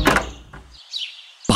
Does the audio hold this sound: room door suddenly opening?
yes